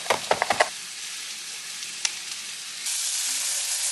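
Garlic and kale fry in a pan over medium heat with a steady, close sizzle, opened by a few quick clattering stirs and no talking.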